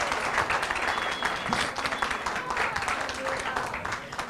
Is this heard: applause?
yes